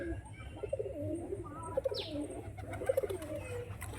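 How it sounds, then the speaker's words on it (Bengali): Abalu pigeons from Murshidabad coo in soft repeated throaty pulses close by, with a brief chirp and a low hum beneath. "আবলু পায়রা মুর্শিদাবাদের"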